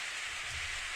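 Steady rain in the visual novel Steins;Gate, a continuous broadband hiss with a low rumble beneath, alone without voices.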